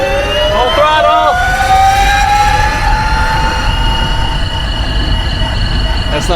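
The swapped-in electric motor of a Chinese electric supercar is held at full throttle, a loud, steady high-pitched whine with rising and falling tonal sweeps over heavy rumbling road and wind noise.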